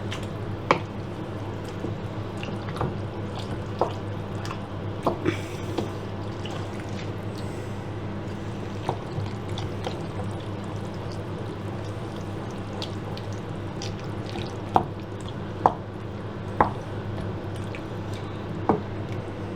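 Slimming World-style mac and cheese being stirred with its sprinkled topping, soft wet squishing and sticky clicks in an irregular rhythm, close and fairly quiet over a steady low hum, without talk.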